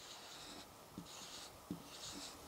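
Pen writing a Hindi letter on paper, soft close scratchy strokes in short bursts with brief pauses, quiet and alone.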